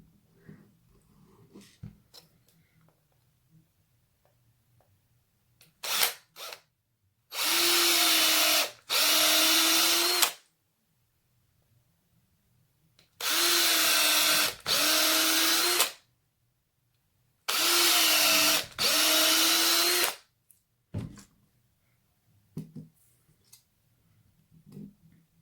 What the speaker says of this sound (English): then we're going to drill 3 holes.